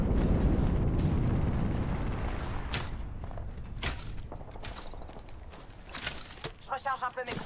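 In Apex Legends gameplay, an arc star grenade blows up with a loud rumbling burst that slowly fades. Sharp crackling pops and rapid bursts follow, and a voice is faintly present.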